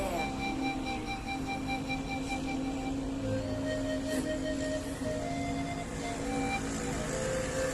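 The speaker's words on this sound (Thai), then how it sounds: "นี่เสียงรถเลยอะ" Steady road traffic rumbles in the background, a continuous wash of engine noise with faint tonal hums, moderately distant and fairly quiet.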